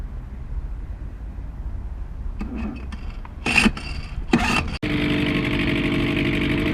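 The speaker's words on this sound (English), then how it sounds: "Is that a motor I hear, Benny?" A small boat motor is heard near its first test run, faint rumble and clunks giving way to a few sharp bursts before the engine catches and settles into a loud, steady running drone.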